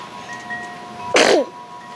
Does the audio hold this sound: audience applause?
no